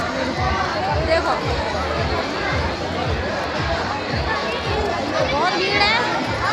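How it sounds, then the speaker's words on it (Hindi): A crowded village feast hums with constant overlapping chatter from adults and children, a thick near babble with rhythmic footfalls underneath. "अब भीड़ बहुत है।"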